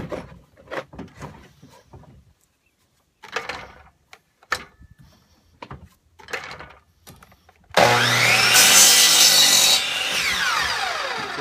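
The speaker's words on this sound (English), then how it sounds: "I got the DeWalt cut saw so we can get some straight cuts." Wood pieces for a reef tank stand are handled with scattered knocks and taps. Then a DeWalt cut saw roars in loud and close, its harsh whining cut running several seconds to the end.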